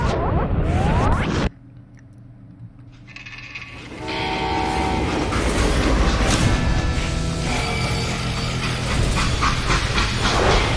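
Steam train in the Western video game Call of Juarez Gunslinger, with a steady rumbling clatter of wheels and mechanical noise that drops briefly and then returns louder and continuous, with no voices.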